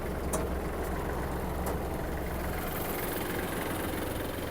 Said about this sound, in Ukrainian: Трактор іде, фреза працює.